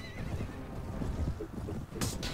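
A horse whinnies in the middle of a Mount and Blade Warband battle, a brief moderately loud neigh over a busy background of hooves and noise.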